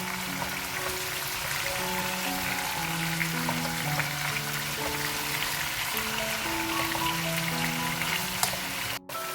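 Chicken tikka sizzling and frying in a pan over a high flame, a steady dense crackle and hiss that stays loud and close throughout, with no talking over it.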